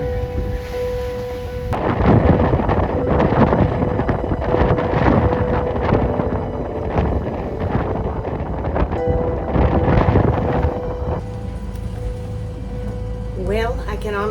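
Strong wind buffets a sailboat at anchor off the Bahamas, a loud roaring rush against the microphone that surges for about ten seconds and then eases, with a steady hum running underneath.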